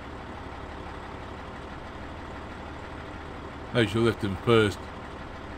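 A vehicle engine in DayZ drones steadily at low pitch throughout, a constant hum near and loud, interrupted late by a short burst of talking over it.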